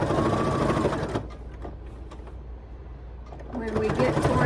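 A sewing machine stitching folded fabric down, its fast mechanical whir running loud and close, easing off briefly in the middle before picking up again.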